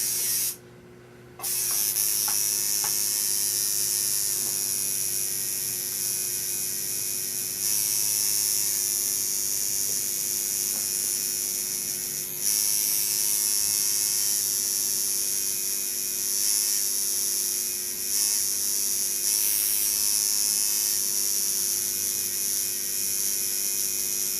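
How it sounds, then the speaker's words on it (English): A tattoo machine running steadily during advanced lining work, giving a loud continuous electric buzz and hum close to the microphone, with brief dips in level but no talking. "I'm running my machine."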